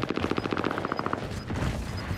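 Rapid automatic gunfire in the Call of Duty Warzone video game rattles in a fast, close burst that tapers off into scattered, quieter shots and game noise.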